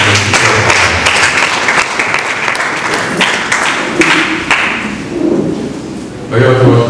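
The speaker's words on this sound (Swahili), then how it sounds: "Tumpigie makofi" An audience breaks into loud, sustained clapping mixed with thumps and murmuring voices, the applause fading toward the end as a few people talk nearby.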